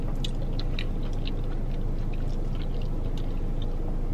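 Crunchy fried mozzarella sticks being chewed close to the mic, with soft, irregular bites and squishy mouth sounds repeating over several seconds against a steady background hiss.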